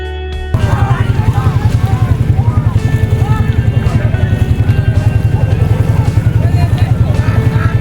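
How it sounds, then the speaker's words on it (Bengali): A motorboat racing across water, its engine throbbing loud and close in a fast steady pulse with wind buffeting, after a brief quieter start. "আমি আর দরদাম না করে উঠে পড়লাম নৌকাতে"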